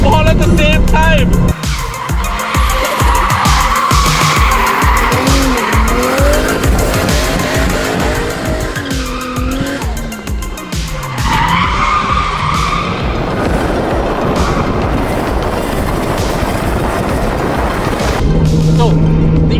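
A drift car in Sri Lanka slides with loud, sustained tire squeal and skidding, its engine revving and bouncing off the limiter in rapid pulses, close and harsh, with talk faintly underneath.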